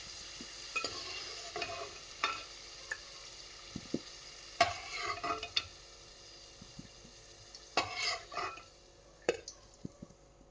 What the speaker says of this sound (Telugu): ఇదే నూనెలో తాలింపు పెట్టేసుకుందాం. నూనె వేడిగానే ఉంది. ఇందులో జీలకర్ర,